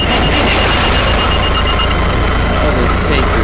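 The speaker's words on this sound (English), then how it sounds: "Oh, this Tanker is so loud." Loud fire tanker truck engine in the EmergeNYC firefighting game during a brush fire, a constant heavy low rumble with broadband roar and a few faint high tones near the end, droning without letup.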